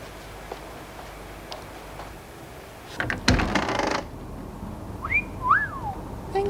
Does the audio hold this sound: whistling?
yes